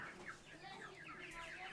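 Chickens being readied for halal slaughter cluck faintly in a short run of soft, uneven calls, with no clear speech.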